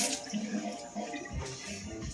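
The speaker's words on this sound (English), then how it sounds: "Let me give this a quick rinse here," Fresh water runs and splashes briefly over a Japanese sharpening stone while a deba knife is being polished and sharpened, a short close wash of flowing water.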